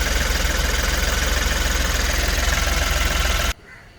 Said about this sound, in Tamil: இன்ஜின் மணி மாதிரி ஆடுது பாருங்க